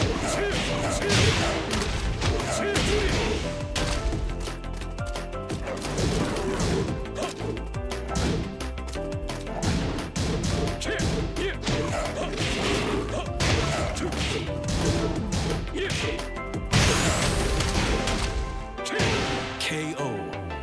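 Rapid fighting hits and crashes in the video game Tekken 7 with Armor King, a dense, loud barrage of thwacks and impacts over game music, continuous for the whole round.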